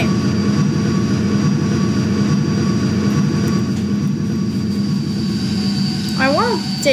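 A Ryanair Boeing 737-800 taxiing in a flight simulator game gives a steady, loud jet-engine whine and drone with a constant tonal hum, and a short warbling electronic tone comes in near the end.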